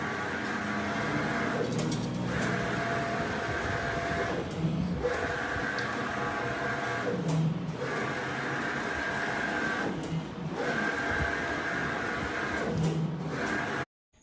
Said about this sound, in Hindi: देखते ये देखिए प्रिंट मशीन स्टार्ट